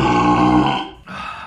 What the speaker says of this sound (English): This is getting pretty burpy now.